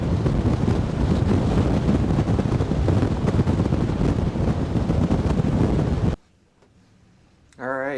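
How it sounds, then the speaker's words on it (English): Strong wind roars across the mic on the deck of the MSC Meraviglia cruise ship as ocean swells rush below, a loud steady buffeting that cuts off abruptly, followed by near silence and then a brief voice. "The sun came out, the wind is blowing though, and man, we got some swells out here"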